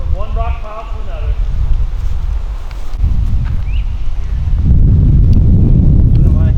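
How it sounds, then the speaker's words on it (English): Strong headwind buffets the microphone outdoors on a disc golf course, a continuous low rumbling roar that swells louder toward the end, with a person speaking briefly over it. "There's a lot of headwind."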